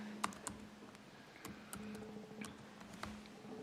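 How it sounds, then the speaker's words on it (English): Steady typing on a computer keyboard during a school district meeting: quiet, irregular key taps and occasional sharper clicks over low room hum, with no talking. "I'm just typing in"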